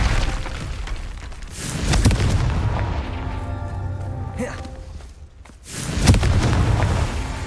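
In Hogwarts Legacy, a Confringo spell goes off as deep booming blasts with rumbling low-end bursts, one swelling early and another striking near the end, loud against ambient game sound.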